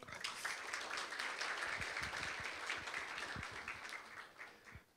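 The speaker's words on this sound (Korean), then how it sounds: "박수 소리가 좀 크지 않은데" Sustained applause from the audience at a meeting of newly passed insurance claims adjuster exam candidates, a dense wash of clapping lasting several seconds before tapering off at the end, moderately loud.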